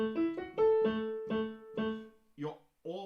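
Piano plays a choir part at a remote choir rehearsal: a short run of sustained, evenly spaced notes, close and clear, followed by a brief voice at the end.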